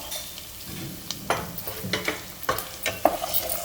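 Boiled green peas stirred in hot oil with curry leaves and turmeric for an eggplant-pea curry, giving a soft steady sizzle broken by several light spatula scrapes and taps against the pan.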